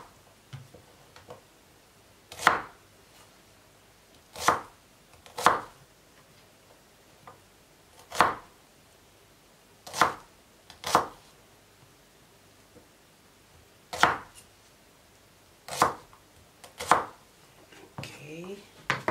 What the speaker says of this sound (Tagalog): Hiwa po tayo ng sibuyas.